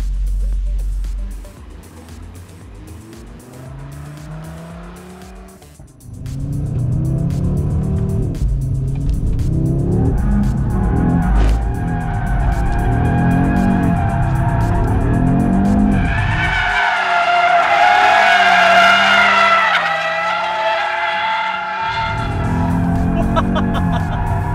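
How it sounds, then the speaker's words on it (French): A 2022-era Audi RS 3 Sportback drifts in Drift Mode on a specially prepared track: a loud, revving engine roars throughout, and sustained high tire squeal builds in the second half as the car holds a long slide. "jouer du volant pour garder la glissade"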